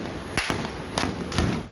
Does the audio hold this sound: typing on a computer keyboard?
no